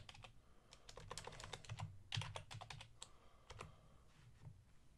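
A search word being typed on a computer keyboard: fast, irregular clicking keystrokes in short bursts over soft room hum, close and fairly quiet, with no voices.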